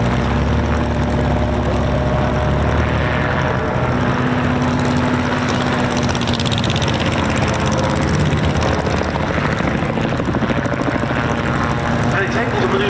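A vintage aircraft engine drones loud and continuous during a controlled spiral descent at an airshow, its pitch shifting slightly as it turns, with a commentator talking over it.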